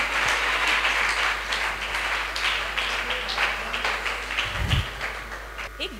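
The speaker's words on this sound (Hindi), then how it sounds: "इनके लिए जोरदार प्रिंस के लिए ताली बजाइए" Audience applause fills a talk session, steady scattered clapping throughout at moderate volume with a brief louder thump near the end.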